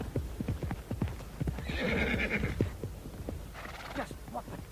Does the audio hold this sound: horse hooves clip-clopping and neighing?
yes